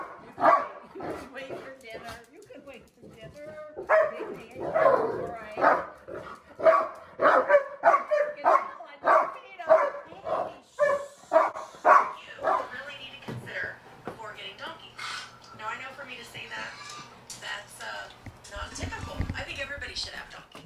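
Several pet dogs bark and yip eagerly at dinner time, a rapid run of close, loud barks with whimpers mixed in, while people talk over them.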